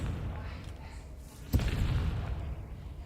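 A single sharp blast from a Confringo fire spell in Hogwarts Legacy, fairly close and of moderate loudness, followed by a low rumbling tail against a quiet background.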